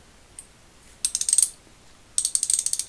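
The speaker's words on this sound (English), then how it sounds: "Yep, it's ratcheting." A vintage Fairmount B51 3/8-inch drive ratchet, freshly reassembled, gives two close, loud bursts of rapid crisp pawl clicks, a faint tick first, then quick clicking runs with a pause between, no talk.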